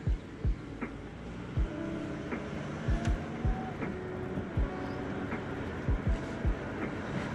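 A Barra-powered Toyota Dyna truck driving, a steady low engine and road drone inside the cab with regular thumps and knocks repeating over the ride.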